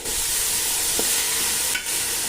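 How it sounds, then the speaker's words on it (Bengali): Basmati rice fries in a pan and is turned gently, making a steady, dense sizzling hiss with one or two soft scrapes, close by and with no voices. "চালটা দেওয়ার পরে খুব হালকা হাতে চালটাকে নাড়াচাড়া করতে হবে"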